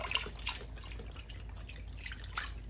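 Chicken stock poured into a pot for old-fashioned Southern chicken and dumplings, giving a steady, soft liquid trickle and splash that runs throughout, close by, with no talking.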